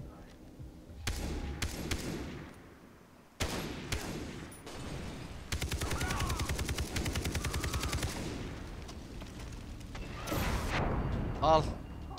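Rapid bursts of automatic gunfire and single shots from a Far Cry 3 firefight, loud and near, with a voice talking excitedly over parts of the shooting.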